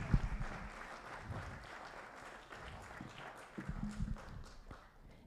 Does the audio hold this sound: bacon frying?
no